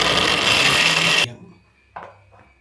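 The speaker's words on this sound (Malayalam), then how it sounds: "തേങ്ങ ആദ്യം തന്നെ മിക്സിയിലേക്ക് ഇടുന്നു" A mixer grinder whirs loudly while blending coconut and dates, running steadily for just over a second before cutting off abruptly, followed by a couple of soft clunks in the quiet.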